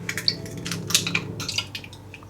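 Two large eggs are cracked into a baking bowl alongside yogurt: a few close, sharp shell taps and cracks followed by soft squishy drips of egg sliding into the bowl, over a low background hum.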